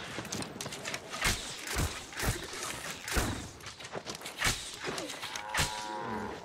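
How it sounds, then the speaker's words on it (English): A cow in the video game New World moos several times in a row, deep drawn-out lowing calls over faint footsteps and thuds, fairly close and distinct. "Cow."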